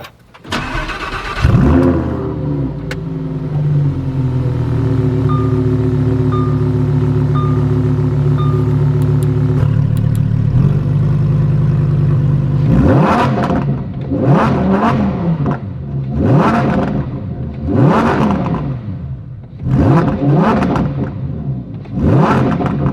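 A Lamborghini sports car engine starts with a loud burst, settles into a steady rumbling idle, then is revved hard in a string of sharp, rising and falling blips close by, with no talking.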